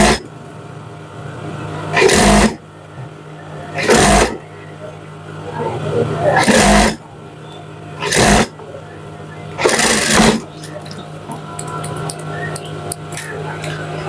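A sewing machine stitching trouser fabric runs in several short bursts of roughly half a second to a second each, loud and close, separated by quieter gaps of room noise.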